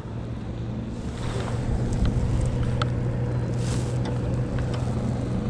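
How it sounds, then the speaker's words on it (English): A Honda 300 outboard motor, apparently running with a dead valve, drones steadily on a river, its low hum rising slightly as wind buffets the microphone, with no voices. "Sounds like a Honda 300 with a valve cut off."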